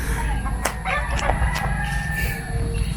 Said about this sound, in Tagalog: Nay manok tare.